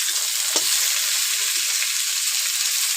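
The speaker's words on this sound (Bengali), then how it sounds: "তো চলো বন্ধুরা ফুলকপিটা ভাজা হোক।" Cauliflower pieces fry in hot oil with a constant bright hiss, close and even, broken by a single brief knock near the start.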